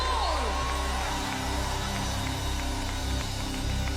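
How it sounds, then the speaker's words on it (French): Large congregation at a church service in Haiti shouting and cheering for joy, a loud continuous roar of many voices with whoops, filling the whole stretch. "Est-ce que quelqu'un peut pousser un cri de joie au nom de Jésus?"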